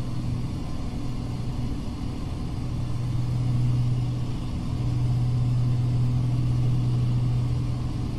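Twin engines of an Alabeo DA42 in FSX running at full power, a steady low droning hum with a throbbing tone that swells slightly midway, continuous and fairly loud with no talking.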